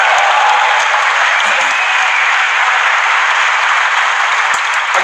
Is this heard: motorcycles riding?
no